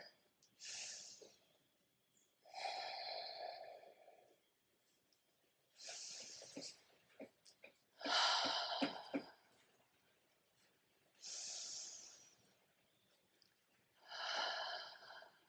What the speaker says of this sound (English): Breathing long, steady breaths for another 5 breaths.